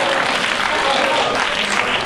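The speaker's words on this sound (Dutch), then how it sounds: "Ja, applaus!" A park audience applauds steadily for a couple of seconds, a dense continuous clapping wash with no voices above it.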